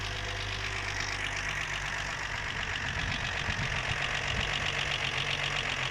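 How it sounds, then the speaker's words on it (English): A 1949 Armstrong Siddeley Lancaster engine idles steadily with a low, even rumble and a light rhythmic ticking, close by and continuous throughout. "There's the engine ticking over."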